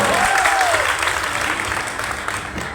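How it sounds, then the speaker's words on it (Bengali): An audience of students and their parents at an award gathering for A-plus results breaks into loud, sustained clapping that fills the room and fades slightly toward the end. "সো ফার্স্ট অফ অল তোমাদেরকে এবং তোমাদের বাবা মার জন্য একটা জোরে করতালি হবে এখানে।"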